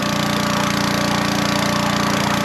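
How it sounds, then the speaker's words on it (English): A loud, steady mechanical roar with a rapid pulsing rattle, continuous and close throughout, from a pressure washer jetting out an old drain pipe. "I know the pressure washer is loud."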